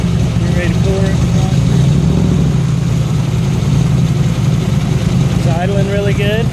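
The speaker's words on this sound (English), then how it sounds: "It's idling really good." A 1962 Corvette Fuelie engine idles smoothly and steadily at close range, a low even rumble with a few faint background sounds over the top.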